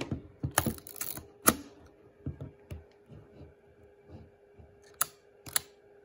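A Yashica Electro 35 GSN film camera with f1.7 lens fires its quiet shutter amid a scattering of soft mechanical clicks and handling taps, a few sharper snaps standing out against near silence.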